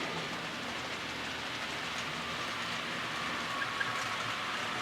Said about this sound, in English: And here comes our train again.